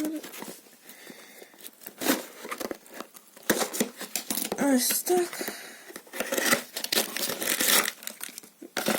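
Plastic packaging of a Lego set crinkles and tears in short bursts up close, with someone speaking softly between the rustles.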